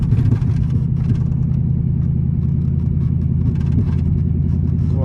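Loud Chrysler 300 engine roaring steadily while the car drifts, a continuous deep rumble with dense low harmonics and no voices.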